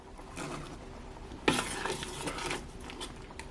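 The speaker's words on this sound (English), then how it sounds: "Now I'm adding about a cup of chopped carrots." Chopped carrots tipped into a pot of 16-bean chili, a sharp clatter and tumble at about midway with soft scraping and stirring clinks around it, close and moderately quiet, with no talking.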